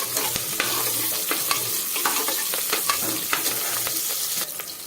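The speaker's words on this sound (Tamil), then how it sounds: "இதில் 100 கிராம் சின்ன வெங்காயம் சின்னதாக கட் பண்ணி வச்சுருக்கேன், அதை சேர்த்துப்போம். சேர்த்து நல்லா வதக்கி விட்டுருங்க." Chopped small onions (shallots) with a few curry leaves sauté in hot oil for a mutton curry, a busy sizzle broken by repeated scrapes and clicks of a spoon stirring the pan, close and fairly loud with no voices.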